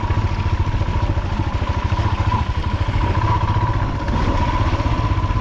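Royal Enfield Himalayan motorcycle riding a tricky lane, its single-cylinder engine thumping steadily and loud throughout with a rattly, clattering texture and no talk.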